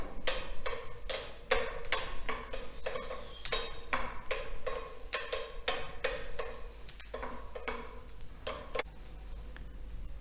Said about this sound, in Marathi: लसूण छान भाजून घ्यायचं आहे